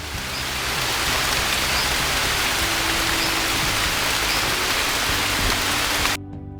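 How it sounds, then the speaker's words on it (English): A loud, dense wash of steady rain fills the space as a sound effect, continuous and even before cutting off abruptly near the end. "So maybe we'll get a couple rain things."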